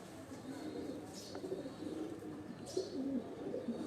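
A large-bodied Sialkot breeder pigeon coos in low, rolling phrases, close and continuous against a soft background hum.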